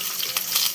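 Sliced onions sizzling in hot oil with garam masala in a pan, a brief, continuous close crackling hiss heard on its own.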